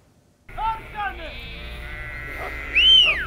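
A flock of sheep, part of a herd of 500 driven with donkeys toward warmer country, bleats in short wavering calls, several voices overlapping close by over a low rumble.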